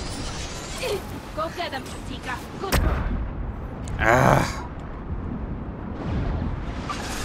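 A flashbang grenade goes off in the game Mass Effect 2 as one sharp, loud burst, followed a moment later by a rougher roar of noise, all under ongoing voices and game combat sounds.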